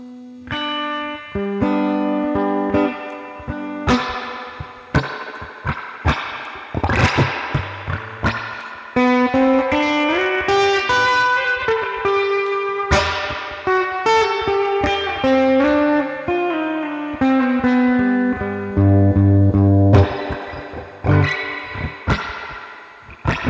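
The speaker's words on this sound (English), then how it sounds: "you're hearing this because of the reverb" Reverb-soaked electric guitar notes and chords through a simulated Fender Champion 600 amp ring out continuously, with long echoing tails blending each phrase into the next at a steady, fairly loud level.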